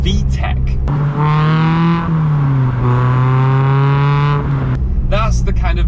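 A car engine revs hard to about 5,000–5,500 rpm through a full Milltek non-resonated sports exhaust with 4-1 manifold and sports cat, a loud rising and falling drone held for several seconds, with brief voices at start and end.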